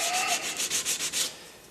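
Body filler being sanded by hand with a 3M sanding sponge during paint prep, a quick series of close, rhythmic rasping strokes, about seven back-and-forth passes, with no voices.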